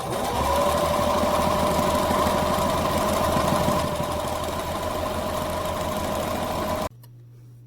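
A sewing machine stitching a homemade fabric mask runs in a loud, steady mechanical whir with rapid needle clatter, then stops abruptly near the end, leaving a low hum.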